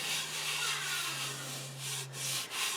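Steady, close abrasive rubbing of sanding on a wooden cutting board made for a Kohler sink, continuous with slight strokes and no talking.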